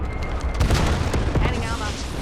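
A grenade blasts in Call of Duty Black Ops 7 Warzone, a loud booming burst within a dense, continuous wash of game combat noise.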